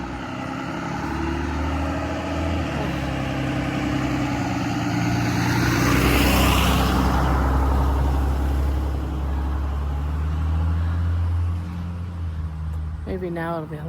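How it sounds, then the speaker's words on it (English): A FedEx delivery truck idles nearby with a loud, steady low diesel rumble that swells as it moves off and then fades, while people talk close by. "FedEx truck up here making all kinds of noise"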